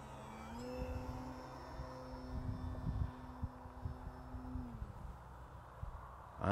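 A distant FMS Pitts V2 1400mm RC biplane whines overhead, its engine pitch holding steady then dropping away, over faint outdoor rumble.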